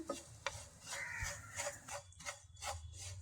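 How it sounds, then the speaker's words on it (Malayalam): Grated coconut roasts in a pan over a low flame, with faint, quiet scraping strokes of stirring in an irregular rhythm and a soft background hiss. "ഇനി നമുക്ക് സിമ്മിൽ വെച്ചിട്ട് ഇളക്കി കൊടുക്കാം, അല്ലെങ്കിൽ കരിഞ്ഞു പോകും"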